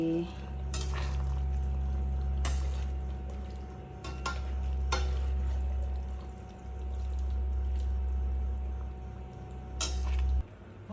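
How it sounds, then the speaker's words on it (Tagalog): Pasta and spinach being tossed into carbonara in a pan, with soft scraping and a few sharp utensil clinks against the pan over a low steady hum, faint and close. "Isabay na rin natin ilagay yung pasta. Saluin natin ng mabuti."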